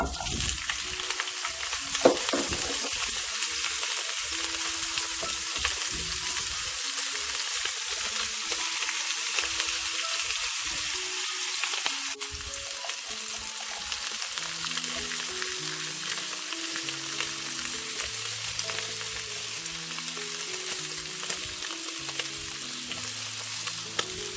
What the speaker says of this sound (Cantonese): 煎一煎呢個排骨。